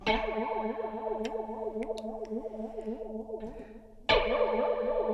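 An electric guitar tone run through a chorus pedal with heavy feedback, warbling in rapid repeating sweeps, with a fresh strum near the end.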